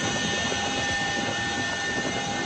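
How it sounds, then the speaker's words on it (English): A military helicopter over an Afghan village gives a steady, loud engine roar with a high whine, and no distinct rotor beat stands out. "people in the village would be able to hear the pounding chopper blades"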